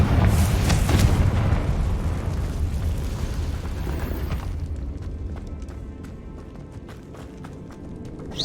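Confringo fire spell blasting in the video game Hogwarts Legacy, a loud booming burst that rolls into a sustained low rumble, followed by a scatter of sharp crackling debris sounds as it fades.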